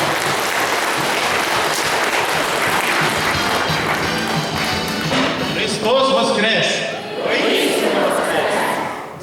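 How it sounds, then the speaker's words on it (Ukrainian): Dense, loud applause from an audience at an Easter festival, a continuous roar of clapping throughout with a few voices rising over it near the end. "Привітаємо, оплесками, будь ласка"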